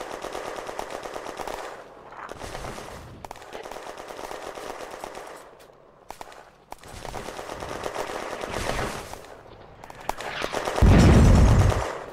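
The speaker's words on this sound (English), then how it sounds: "The mortar rounds slam in." Heavy gunfire and mortar rounds slamming in during a WWII video game battle set in June 1940, sustained rattling volleys broken by brief gaps, ending with a loud deep booming explosion.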